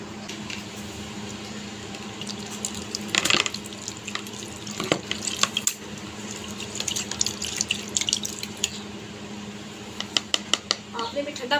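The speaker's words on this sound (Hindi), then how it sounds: "बोल में पानी ऐड करते हैं।" Water pouring into a bowl while making mozzarella at home, a running, splashing stream with scattered clinks and pours across the clip, close by, with a voice talking in between.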